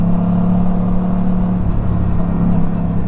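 Motorbike engine droning steadily while riding on the road, a loud, close, continuous hum and rumble with no breaks and no talking.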